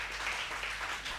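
Audience at a Hindi poetry recitation applauds a poet, a brief, steady wash of clapping at moderate level with no voices over it.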